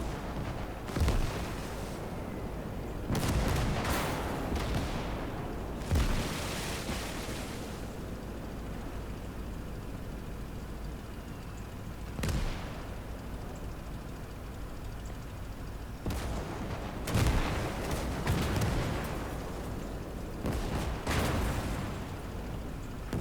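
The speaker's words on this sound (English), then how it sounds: "We've got all our guns firing side onto it." Tank guns firing in Gates of Hell during a Finland campaign battle, scattered heavy booms and blasts spaced irregularly over a low rumbling backdrop.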